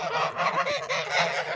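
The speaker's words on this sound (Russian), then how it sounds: "Бабуся пасет гусей." Domestic geese being herded by a grandmother in a village yard honk repeatedly in a close, overlapping chorus, rising and falling in loud nasal calls throughout.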